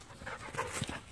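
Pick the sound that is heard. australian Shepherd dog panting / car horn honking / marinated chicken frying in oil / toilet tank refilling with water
australian Shepherd dog panting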